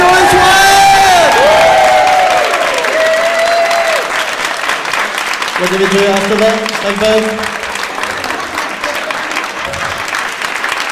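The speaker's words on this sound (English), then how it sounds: "And the crowd goes wild!" A stage-show audience bursts into loud, sustained applause and cheering that keeps going throughout, while voices call out and a person speaks over the crowd noise.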